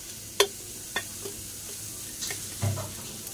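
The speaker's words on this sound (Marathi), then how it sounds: "चांगला लालसर कांदा भाजून घ्यायचा।" Onion frying in a pan for misal gives a faint, steady sizzle, with a sharp utensil knock near the start and a few softer stirring scrapes and clinks.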